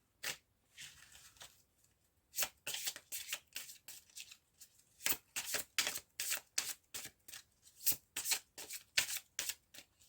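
Tarot cards being shuffled by hand, with repeated crisp riffling bursts in an irregular rhythm, close and fairly quiet, and short pauses between them.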